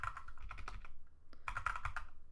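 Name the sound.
typing on a computer keyboard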